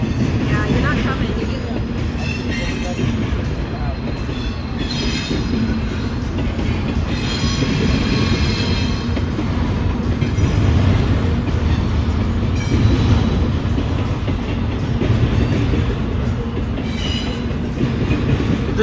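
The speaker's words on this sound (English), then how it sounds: "The train's almost gone, you guys." Amtrak and CSX trains roll past with a loud, continuous rumble of wagons and some wheel squeal, close by, while a few voices talk faintly under the noise.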